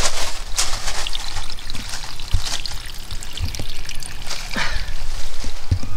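Water pours and trickles steadily through a campervan shower as it runs and drains, a continuous close splashing flow with a few faint knocks and clicks.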